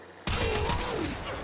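Gunfire from the video game Warframe, likely the Tazikor weapon, bursts in abruptly and continues as a dense, loud, sustained stream of rapid shots with a faint hum running beneath.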